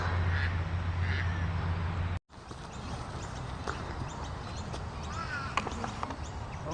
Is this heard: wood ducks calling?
yes